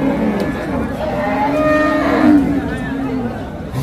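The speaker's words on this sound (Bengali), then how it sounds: "এই পাশেও বড় বড় কিছু ষাঁড় আছে" Bulls lowing at Hazratpur cattle market, sold for meat and farm use, with a sustained low moo running through the clip over a busy background of crowd chatter and nearby voices.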